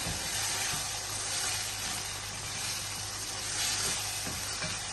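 Steady loud sizzling of spices stirred in a hot pan for a goat kidney masala with turmeric, chili flakes and crushed red chili, a continuous frying hiss with no talk.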